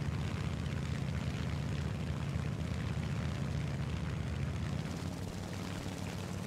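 A propeller plane flies in War Thunder during an arcade battle, its engine a constant, loud droning buzz that holds steady throughout with no talk over it.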